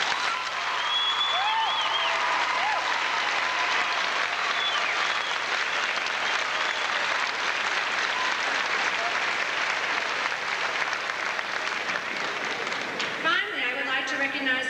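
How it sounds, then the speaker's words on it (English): Sustained applause from a large graduation crowd fills the space, steady and dense, tapering off near the end as a voice begins. "Let's have a big round of applause."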